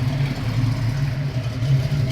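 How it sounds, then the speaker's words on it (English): 1971 Ford Gran Torino GT with a 351 Cleveland V8 breathing through Flowmaster mufflers, a steady low, throaty idle rumble held close and even for a couple of seconds with no talking. "You can hear that 351 Cleveland sounding out through those Flowmaster mufflers."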